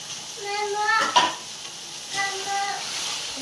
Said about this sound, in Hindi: शिमला डाल देंगे, और साथ ही हम टमाटर डाल देंगे।